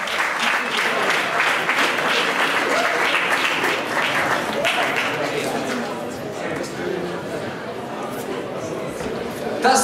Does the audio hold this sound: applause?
yes